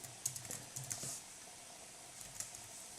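Typing on a Rii K09 foldable Bluetooth keyboard with an Azerty layout, quiet irregular key clicks and taps in short bursts, close up and alone.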